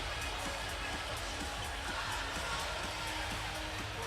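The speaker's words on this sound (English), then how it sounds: "A great crowd on hand inside the Walter Pyramid" Volleyball crowd filling the Walter Pyramid arena during a Hawaii versus Long Beach State men's match, a steady broad roar of cheering and chatter with faint rhythmic thumps underneath, continuous throughout.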